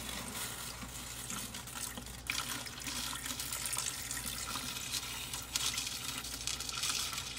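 Water pours steadily into an aquarium over sand, a continuous, fairly quiet rushing and splashing with slight surges and no talking.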